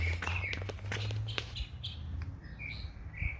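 A boy imitating a bird call with his voice, making a few short, high chirps and tweets that grow more tonal toward the end, fairly quiet and heard without other talk.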